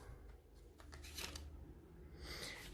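A deck of tarot cards is shuffled in quick riffling bursts, soft papery flutters and snaps close by, with a longer burst near the end.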